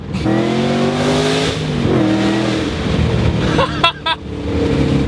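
A supercharged 2008 Shelby GT500 engine revs hard and climbs in pitch as it accelerates, loud and close, with a couple of brief higher whines near the end.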